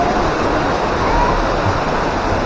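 Water rushing and splashing on La Rivière Sauvage, a water ride at La Mer de Sable amusement park in France: a loud, steady, close roar of churning water with no break.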